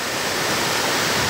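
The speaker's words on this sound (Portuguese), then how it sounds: "Pessoal, estamos aqui na barragem da Cachoeira. Muita água descendo aqui." Heavy floodwater rushing over a dam spillway after heavy rain in southwest Bahia, a dense, continuous roar that is loud and close with no voices.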